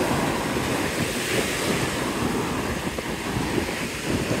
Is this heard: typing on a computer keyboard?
no